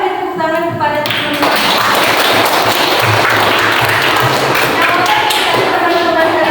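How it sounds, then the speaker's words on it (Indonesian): Children in a classroom clap for a classmate during a solar system lesson, the clapping loud, close and continuous after a teacher's voice speaks at the start, with voices returning near the end. "Ayo beri tepuk tangan kepada teman"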